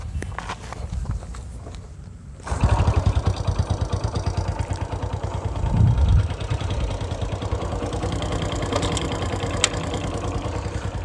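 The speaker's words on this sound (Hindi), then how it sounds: "देखा आपने कि बाइक स्टार्ट हो गई" A motorcycle, started without the kick or electric starter, comes to life after a quiet stretch and settles into a steady, close idle with a low, even rumble.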